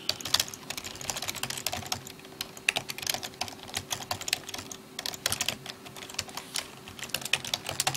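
Rapid typing on a computer keyboard, with dense irregular key clicks running steadily throughout at close range, no talking.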